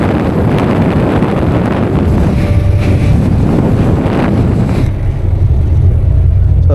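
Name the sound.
bus AC vent blowing air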